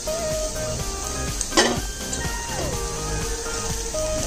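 Beans and capsicum stir-frying in hot oil in a pan, a close, continuous sizzle with a sharp burst of spattering as the vegetables hit, plus light clinks of utensil against pan.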